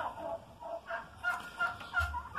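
A turkey tom and hen on a poultry yard give a series of short gobbling, honking calls, moderately near and irregular in rhythm, with no talk over them.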